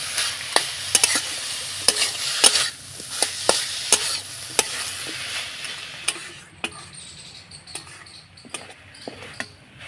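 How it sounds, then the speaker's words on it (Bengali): Sweet jaggery filling for pitha stirred in a pan with a little water, dense rapid spoon clicks and scrapes over a soft sizzle that thins out to sparser taps near the end, no talking. "এবার নাড়াচাড়া করে আমি পুরটা তৈরি করে নেব।"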